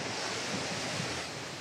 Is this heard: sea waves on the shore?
yes